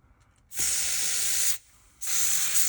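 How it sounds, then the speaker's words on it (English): Two long hissing bursts from an aerosol can of contact cleaner sprayed close up onto the motor brushes of an OO gauge model locomotive, the first about a second long, then a short pause before the second. "just spray this in on the brushes"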